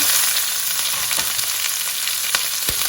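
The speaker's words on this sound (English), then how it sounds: "I'm just going to cook this on high heat for 5 minutes" Chopped onion and green pepper frying in oil on high heat, a continuous close crackling sizzle with light stirring taps.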